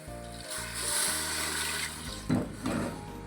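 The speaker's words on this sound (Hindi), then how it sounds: "अब मैं डाल रहा हूँ 1 किलो गोश्त कुकर के अंदर, और इसके साथ मैं डालूँगा आधा लीटर पानी।" Half a litre of water splashes into a pressure cooker holding a kilogram of mutton for spinach gosht, a short gushing pour in bursts over a low steady hum, no voices.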